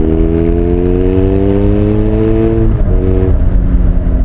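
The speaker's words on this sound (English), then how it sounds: "watch how it accelerates. It's like fantastic road bike engine." A loud BMW road motorcycle engine drones close by, pitch rising smoothly as it accelerates, then drops briefly at a gear change before pulling on.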